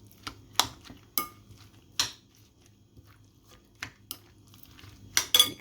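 Cabbage and chicken stirred in a pan with a metal utensil, making distinct scraping and clanking strokes in an uneven rhythm, close and fairly loud, with a faint sizzle between strokes.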